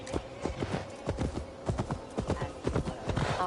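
Horse hooves clip-clop in a steady rhythmic gait through an untamed forest in Old Gloucestershire in the video game Assassin's Creed Valhalla, loud and close, with faint ambient sound behind.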